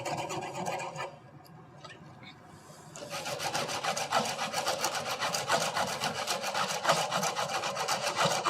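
A hand saw cuts into the wall of a PVC pipe about an inch from its end for a homemade bow: a few tentative strokes, then steady, rapid back-and-forth rasping that continues loud and close.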